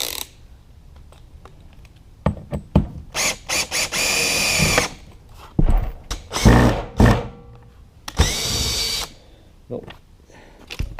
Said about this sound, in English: I need to crank up the power on the drill so I can get that self-tapper to go through the aluminum.